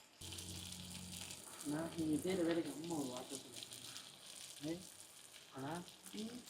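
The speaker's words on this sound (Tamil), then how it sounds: "இப்போ நெத்தலி பார்த்திங்கன்னா நல்லா எண்ணெயில் வதங்கிட்டு" Anchovies sizzling in hot oil in a pan for a Tamil aubergine curry, a steady close fry that keeps going under a voice talking through most of it.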